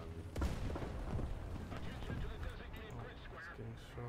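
Booming gunfire in a tank battle video game, one heavy shot up front, then a rumbling din of distant fire and engine noise, with a voice talking over it.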